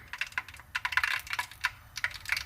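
Rapid irregular crackling and popping as skate wax melts in a pan on high heat, small sharp snaps in quick succession, close up and fairly quiet.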